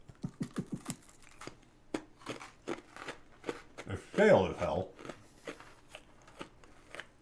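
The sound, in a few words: crunching an Oreo cookie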